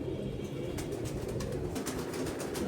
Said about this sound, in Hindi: ये है जी हीनो वाला कबूतर